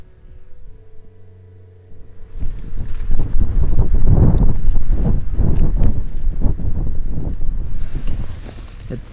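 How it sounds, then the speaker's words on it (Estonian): A strong wind roars outdoors on a hike in Sarek National Park, Sweden, blasting loudly into the microphone in heavy rumbling gusts that start after a quieter opening and keep going with no talk. "õues on mega tuul"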